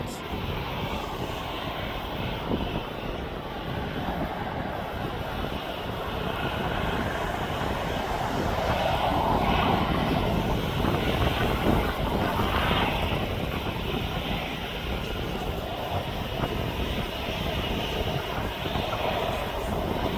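A Dalaman-bound airliner departing East Midlands Airport, a sustained broad jet roar that swells slightly midway and stays steady throughout, heard alone with no talk.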